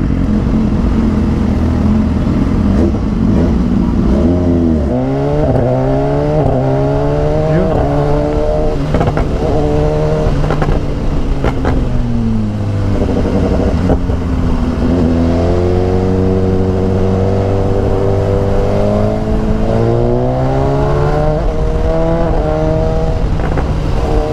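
A BMW S1000XR sport touring motorcycle engine revs hard and continuously, its pitch climbing and falling through repeated throttle sweeps, loud and close throughout.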